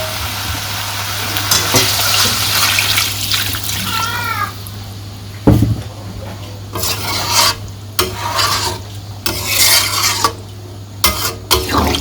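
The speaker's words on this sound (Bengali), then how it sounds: "মাংস কষানো হয়ে গেছে আমি জল দিয়ে দিই" Water goes into a pot of frying village-style chicken curry, giving a loud sizzling rush followed by bubbling and scraping of a utensil, with a steady low hum beneath and a few sharp knocks.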